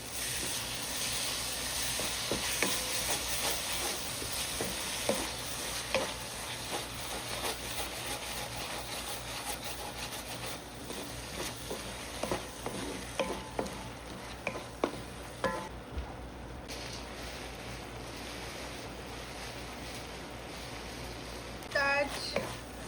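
Spoonfuls of yogurt go into a sizzling spice mix in a pan for a cauliflower sabji, a steady frying hiss with intermittent spoon clatter and stirring knocks, with a voice talking over it throughout.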